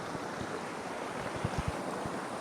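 Water rushes steadily at Valasa waterfall amid the hills near Maredumilli, a continuous broadband roar with a few soft thumps and splashes close by.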